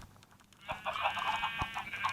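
Chickens in Minecraft give short, faint clucks with a couple of soft thuds, heard close and quiet.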